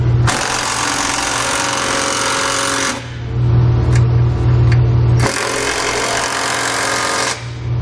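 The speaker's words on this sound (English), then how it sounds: "Now we can tighten all our hardware up." A power tool tightens trailer hitch bolts on a 2013 Lincoln MKX in loud, sustained bursts, buzzing hard for a few seconds, pausing briefly with a lower hum, then running again.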